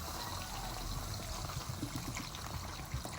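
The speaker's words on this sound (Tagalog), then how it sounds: "Dagdagan pa natin ng cooking oil." Cooking oil being poured into a pan while making a Filipino chicken dish, a soft steady trickle under a constant low background hum.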